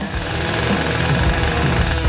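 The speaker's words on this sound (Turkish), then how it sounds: "Tamam. O zaman testereyi kullanacağım." A saw cutting into a jar, heard as a loud, continuous buzzing vibration with fast rattling pulses throughout.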